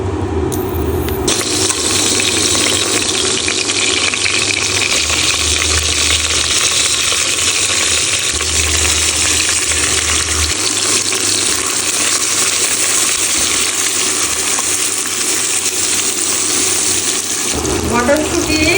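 Peas, carrots and raisins fry in hot oil for pulao, giving a loud, steady sizzle that fills the whole stretch, with a few clinks and a brief shift near the end and no voices.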